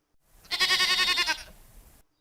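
A lone sheep gives one close, clear bleat lasting about a second, wavering and fading out in a quiet setting.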